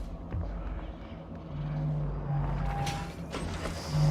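A greater mimic creature shifts and moves in the game Prey, heard as creaking, ratcheting mechanical clicks and tones over a steady low hum, moderately loud with no speech.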